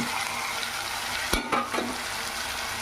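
Boiled potatoes and vegetables frying in hot oil in a pan for vegetable lemon rice, a steady close sizzle with a few brief stirring clatters partway through.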